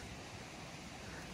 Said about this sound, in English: It's a very, very small waterfall.